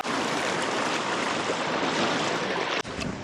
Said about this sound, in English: that was a nice river crossing.